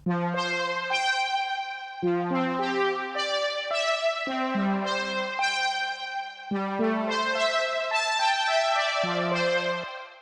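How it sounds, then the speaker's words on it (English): A synth brass patch played in Logic sounds bright, sustained chords that change every couple of seconds, with a full, brassy tone and a steady rhythm, loud and alone. "So I found this lovely brass sound"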